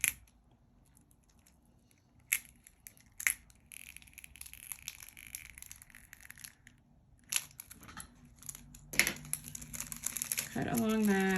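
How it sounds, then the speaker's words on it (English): Small scissors snip along the edge of a Diamond Art Studio UK diamond painting canvas, with several sharp, close cuts and crinkly plastic rustles spaced across the stretch, and a voice speaks briefly near the end. "I'm going to take my little scissors."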